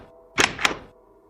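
A brief creak and thunk of a door moving on its hinge, two quick bursts close by, then quiet.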